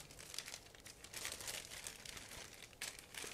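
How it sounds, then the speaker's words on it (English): A resealable plastic bag holding parts of a 1/72 scale plastic model aircraft kit is opened and handled, giving soft, continuous crinkling and rustling close by, fairly quiet, with no talk. "So let's open it. It's a resealable plastic bag, so you can use it later as well."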